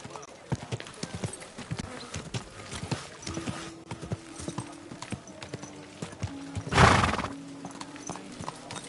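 A horse in Kingdom Come: Deliverance 2 on PS5 clops along with steady hoofbeats, then lets out a loud, sharp whinny near the end, amid light ambient game sound.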